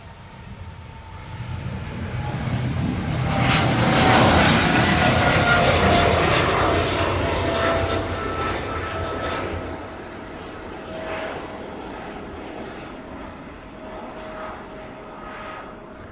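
An airplane at a Hawaii airport at sunset swells in a loud engine roar that peaks and then recedes into a fainter, steady drone, with a high whine running throughout.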